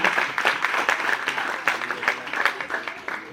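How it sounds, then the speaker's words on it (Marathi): Studio audience applause for friends at a Friendship Day celebration on a Marathi TV show set, steady dense clapping with sharp individual claps throughout, fairly close and sustained. "सो तुमच्यातला अशा प्रत्येक मित्र किंवा मैत्रिणीसाठी सगळ्यात आधी जोरदार टाळ्या."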